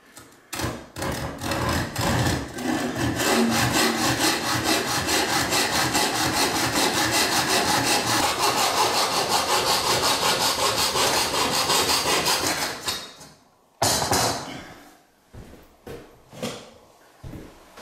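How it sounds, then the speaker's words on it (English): A hacksaw draws steady back-and-forth strokes through tile trim for a corner shower bench, loud and continuous for about twelve seconds before a brief pause and a few shorter scraping strokes. "most people will have a hacksaw, so that's what I'm going to use"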